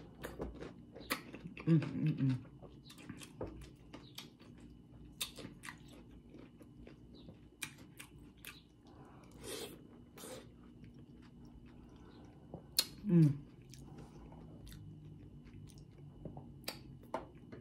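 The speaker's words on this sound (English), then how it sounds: "Give me a little cucumber bite." Cucumber is bitten and chewed close to the microphone, with two crisp crunchy bites followed by quieter wet chewing and smacking, and soft humming vocalizations in between.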